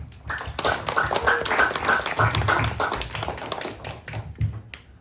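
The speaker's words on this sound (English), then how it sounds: "Please give a round of applause for the Executive Director of CASRA, Chad Co" Scattered clapping rises into a brief round of applause from a small conference audience, fairly close, then thins out near the end.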